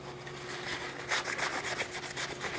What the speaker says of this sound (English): thoroughly clean the drill body with alcohol and remove any of the oil residue before mounting